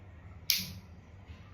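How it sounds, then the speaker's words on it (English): A single sharp click, crisp and close, as a DJI Osmo Action 5 Pro camera locks into its case, followed by brief fading rattle in a quiet room. "The tuck sound ensures the camera is locked within the case"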